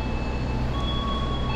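Bengawan passenger train passing through Kroya station, a steady rumbling rail roar with faint high squeal tones, brief and moderately loud.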